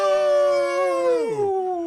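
One long, loud wolf-like howl holds a steady, rich pitch, then slides downward and fades near the end.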